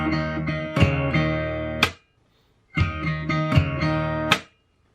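Fingerstyle acoustic guitar plays a riff, with hammered-on notes over a ringing open bass string. Two close, clear repetitions are separated by a short silence.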